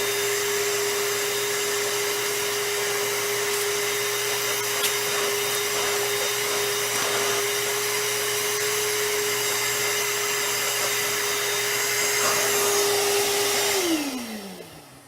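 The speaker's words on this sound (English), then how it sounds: "So a small vacuum like this, or the shop vac that you have at your house" A steady, loud motorized whine of a small vacuum or shop vac cleaning an HRV filter runs continuously, then winds down and cuts off near the end.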